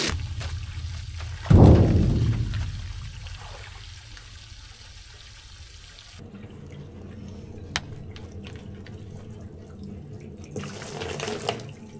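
Water rushes from a tap while rinsing out a calf water treatment, starting with a loud gush and settling into a steady, fairly close flow that changes tone partway through.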